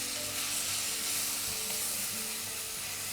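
Green chilies and a paste sauté in oil for a chicken pulao, a dense steady sizzle and hiss with faint stirring scrapes underneath that holds evenly throughout, and no speech.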